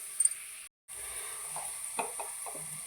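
Onions for chicken liver curry frying in a pan, a faint, steady hiss with a brief silent gap and a few soft stirring scrapes.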